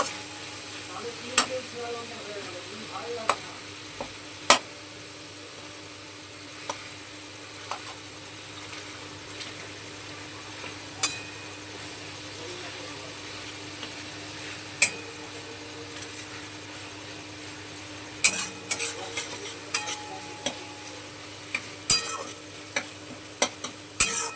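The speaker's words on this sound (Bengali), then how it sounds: "এবারে সমস্ত মশলাগুলো খুব ভালোভাবে কষিয়ে নেব" Spices for chana masala frying in oil in a pan, a low continuous sizzle punctuated by sharp ladle taps and scrapes, becoming busier toward the end, close by and without speech.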